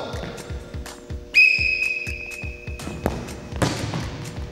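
A referee's whistle starts a penalty kick in an outdoor team challenge game: one long, steady blast cuts in over a constant rhythm of low thuds, like a ball bouncing.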